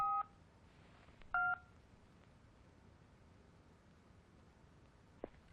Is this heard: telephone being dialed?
yes